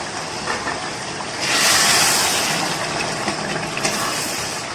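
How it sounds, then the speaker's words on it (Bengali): Water is poured into a pot of duck curry, making a loud rushing hiss that swells suddenly partway through and stays strong before easing slightly, close up and with no talk. "এবারে আমি এটার মধ্যে জল ঢেলে দেবো।"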